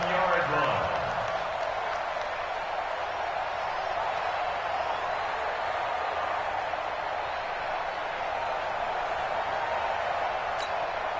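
Steady roaring stadium crowd inside the Dome during a football video game, a continuous dense wall of noise with no breaks.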